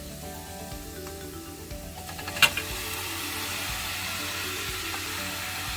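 Cooked cauliflower sizzles steadily in a hot pan for Indian gobhi bhurji, a constant close frying hiss broken by a single sharp clink of a utensil partway through.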